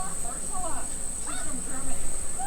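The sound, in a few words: bees buzzing around a hive being removed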